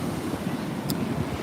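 Strong wind buffeting a microphone at a beach, a dense, continuous rumbling roar with possible surf mixed in, steady and loud throughout.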